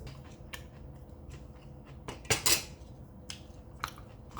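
Knife and cutlery working through a prime rib roast on the bone at a home table, faint scraping and clicking against a plate with one sharper burst of clatter midway, close but quiet, no talk.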